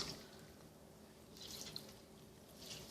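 Cold tap water runs steadily into a sink as raw meat is rinsed for joumou soup, a soft, continuous splashing hiss with faint drips, quiet and close, no voices.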